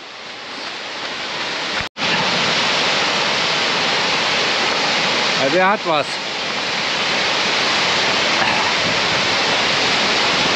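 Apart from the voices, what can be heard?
waterfall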